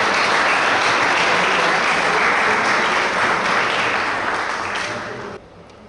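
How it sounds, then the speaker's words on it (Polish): An audience claps loudly and steadily at an award ceremony for teachers of the year, the dense applause holding for several seconds before fading and breaking off near the end. "wielkie gratulacje i wielkie brawa dla Waltera Pyki"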